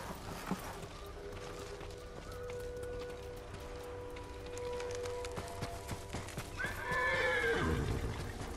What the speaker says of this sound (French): Laissons les chevaux ici.